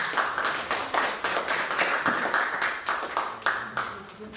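An audience claps at a national poetry recitation contest, a fairly small crowd producing a loose, uneven run of individual claps with a tapping rhythm, close and moderately loud throughout.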